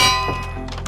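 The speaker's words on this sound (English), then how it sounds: "Let's try the bell somewhere else." A bell block in the Minecraft video game is placed and struck, giving one short metallic clang with a brief ringing decay.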